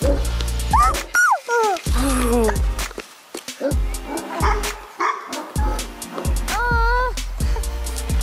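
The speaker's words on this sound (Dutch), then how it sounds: "Wat zei het hondje?" A small dog yaps and yips repeatedly at close range, sharp high barks coming in quick irregular bursts with brief pauses between them.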